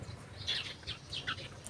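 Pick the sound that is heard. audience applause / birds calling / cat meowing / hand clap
birds calling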